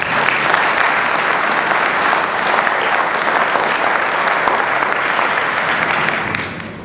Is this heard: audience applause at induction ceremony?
yes